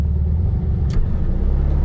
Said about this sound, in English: Today we're driving a special little 1968 Volkswagen Beetle.